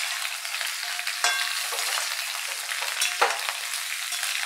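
Pointed gourd, papaya, ridge gourd, eggplant and drumstick vegetables frying in oil, a steady loud sizzle with a few sharp clicks of stirring, alone without talk.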